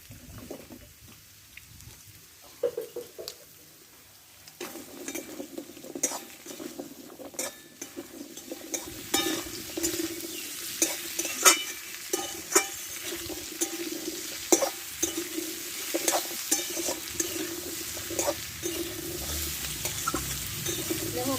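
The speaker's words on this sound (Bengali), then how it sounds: "এবার এই তেলটাতে আমি সবজিগুলো সব কষে নেবো ভালো করে পটল মূলো লাল কুমড়ো আলু একসঙ্গে এগুলো কষে নেবো আমি" Pointed gourd, radish, red pumpkin and potato are sautéed together in fish oil, with a soft sizzle under repeated scraping and clattering of a spatula against the pan over a long stretch, no voices.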